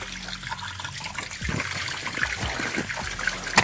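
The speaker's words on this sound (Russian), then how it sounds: "Вот где льется вода." Water trickles and drips beside a frozen waterfall in winter, a soft continuous splashing with a few sharper drops, close by and alone with no talk.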